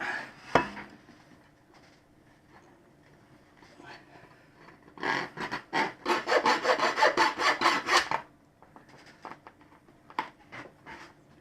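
Front mudguard of a Moto Guzzi V7 being trimmed down by hand: a burst of quick, rhythmic rasping or sawing strokes, about a dozen in a row, preceded and followed by scattered scrapes and handling noises, close and moderately loud.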